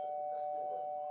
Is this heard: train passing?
no